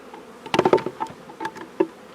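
Honeybees from an open hive during an autumn inspection make a close buzzing with scattered rising and falling passes, louder in a cluster early on, with a soft continuous hum beneath and no talk.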